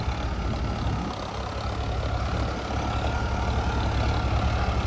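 A New Holland 3630 TX tractor pulls forward in four-wheel drive, medium second gear. Its engine gives a steady, loud, low drone that runs unbroken for the whole stretch.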